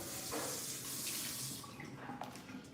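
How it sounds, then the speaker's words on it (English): Tap water runs into a kitchen sink while something is rinsed, a close continuous splashing rush with small knocks and shifts in the flow as the item moves under the stream. "Let me rinse this"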